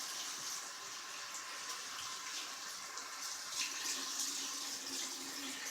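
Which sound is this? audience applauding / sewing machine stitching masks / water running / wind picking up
water running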